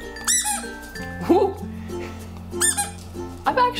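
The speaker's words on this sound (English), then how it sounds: "Next is Pet Project Squeaky Tiki. Irresistibly squeaky, gentle yet durable" A Pet Project Squeaky Tiki, a BPA-free plastic dog toy, squeaks loudly and close in several sharp bursts, mixed with a voice exclaiming and background music.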